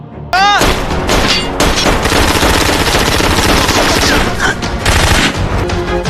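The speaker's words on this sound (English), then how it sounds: "The shootout between Dragon and Frank didn't last long because Frank shot Dragon dead instantly." Rapid bursts of gunfire fill a movie shootout between gangsters, loud and dense, with sharp repeated shots and automatic fire running continuously over several seconds amid a busy score and effects.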